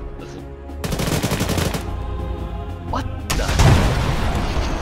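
Gunfire and explosions in the military shooter Arma 3, a dense stretch of repeated shots with heavy booms landing close by, loud throughout while players talk over the battle.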